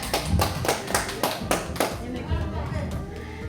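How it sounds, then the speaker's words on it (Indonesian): Group clapping in time during a teachers' training session, about six loud rhythmic claps that then give way to murmuring voices and low room noise. "Oke, tepuk tangan."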